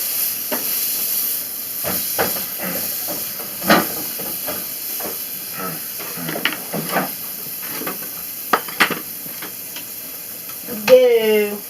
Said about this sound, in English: they're going to burn quicker having the butter in there. They're frying in it.